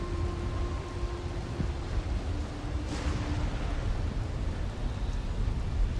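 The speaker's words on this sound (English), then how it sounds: "here's where the storm is coming from" Steady rain and distant thunder from a magical storm in the video game Drakan: The Ancients' Gates, a continuous hiss of rainfall with a faint low rumble and no talk.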